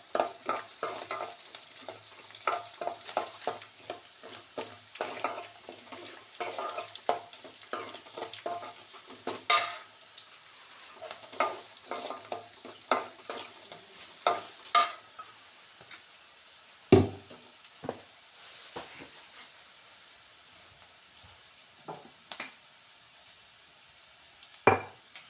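Frying and stirring in a pan while cooking a curd-based raw jackfruit gojju, with dense sizzling and frequent sharp scrapes and knocks of a utensil against the pan, steady and close with no speech.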